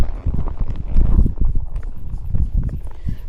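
A horse walks in a steady clip-clop rhythm, hooves striking the ground close and fairly loud, with a rider out on a first ride in three months near grazing sheep.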